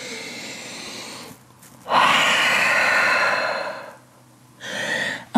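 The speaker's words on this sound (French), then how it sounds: "Grande respiration ici." Deep audible breath during a vinyasa yoga sun salutation, a long airy inhale or exhale lasting about two seconds, followed by a shorter breath, close and soft with no talk.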